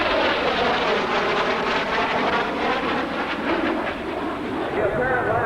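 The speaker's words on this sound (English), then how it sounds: "the F-117A now on another turnaround maneuver out at Air Show" An F-117A jet maneuvers at the 1993 Lafayette air show, a loud, broad roaring rumble that washes steadily overhead and shifts slightly as it turns.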